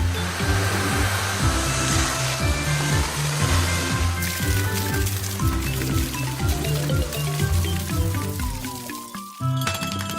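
A cartoon water truck sprays water from its water cannons, giving a loud, steady rushing hiss layered over a thumping, rhythmic musical beat that runs throughout before a brief break near the end.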